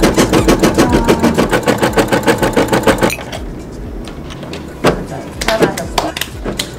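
Brother NV180D embroidery sewing machine stitching in a fast, steady mechanical pulse for about three seconds, then stopping, followed by softer handling clicks and knocks nearby.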